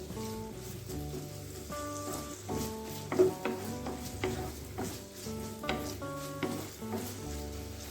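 Finely chopped onions frying in coconut oil in a pan give a steady, close sizzle with occasional stirring scrapes, continuous and even, with no voices.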